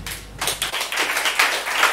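An audience at a coding bootcamp demo day claps to welcome a presenter, giving a brief, close burst of scattered applause that is fairly loud and quickly settles.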